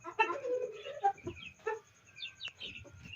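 A Kandhari Aseel hen clucks up close in a quick run of throaty, rising notes, with a few softer calls trailing after.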